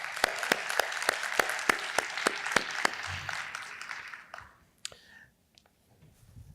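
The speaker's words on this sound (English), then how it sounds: "Let's give them a round of applause." A conference audience claps as panelists come on stage at a Texas executive keynote panel. One loud, steady clapper stands out over lighter applause, which thins out after about four seconds under faint talk.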